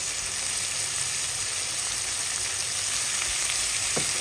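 Mung beans sauté with fish sauce in a pan for ginisang monggo, a steady, loud, close sizzle hissing without a break throughout, with a faint scrape near the end.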